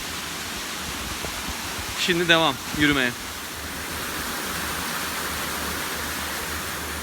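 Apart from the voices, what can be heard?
waterfall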